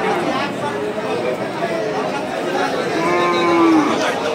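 A cow, sold with its calf, moos at the Seven Mile cattle market. Crowd chatter runs throughout, and one long, clear moo rises near the end.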